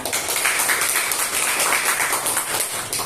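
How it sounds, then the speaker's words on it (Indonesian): Classroom clapping during an economics lesson, a group of students clapping continuously and fairly loudly with a busy, dense texture throughout the few seconds. "tepuk tangan"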